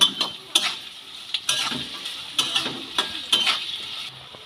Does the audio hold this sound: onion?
yes